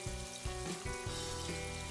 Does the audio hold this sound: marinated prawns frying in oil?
yes